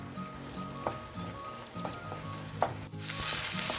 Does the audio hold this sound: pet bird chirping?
no